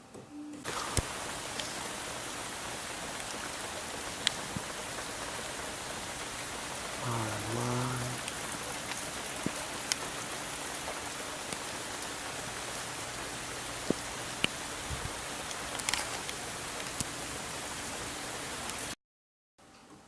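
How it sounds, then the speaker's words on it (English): Steady rain falling outdoors, a dense continuous hiss of drops on surfaces that holds for the whole stretch, with occasional sharp drip ticks, a short low rumble midway and a brief dropout near the end. "it's raining outside"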